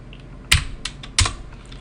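Two sharp, close keystrokes on a computer keyboard, with faint lighter taps between them, against a quiet background.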